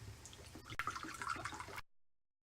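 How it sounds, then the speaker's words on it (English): Filtered water poured into a pork and pepper noodle dish, a short close trickle and splash lasting under two seconds before stopping abruptly, no talking. "Take some filtered water right here."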